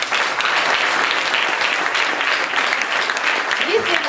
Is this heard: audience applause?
yes